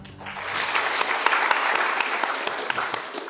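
An audience applauds the State House Girls school team at a school debate competition, a dense wash of clapping that starts almost at once and holds steady and loud, with occasional sharper individual claps cutting through to the end.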